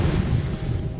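Ocean waves wash in a steady, loud roar with gusty wind rushing across the microphone, heard near the sea in the video game What Remains of Edith Finch.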